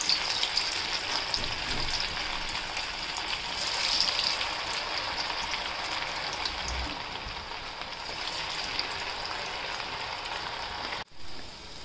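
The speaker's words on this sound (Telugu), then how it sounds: "ఆయిల్ వేడెక్కాక ఇలా ఒక్కొక్కటిగా ఫ్రై చేసుకోవాలి" Dragon chicken pieces, an Indo-Chinese restaurant-style starter, deep frying one by one in hot oil: a steady, dense sizzle and bubbling that holds near and even throughout, with no voices.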